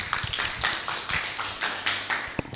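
A classroom of students gives a short round of applause for group 3 during a lesson. The clapping is brisk and fairly close, with a few sharp taps near the end.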